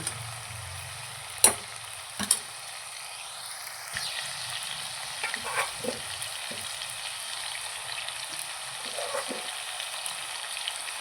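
Tomato and mushroom masala cooking in a pan, a low steady bubbling sizzle with a couple of sharp clinks early on and faint stirring scrapes later, close and fairly quiet, with no talk.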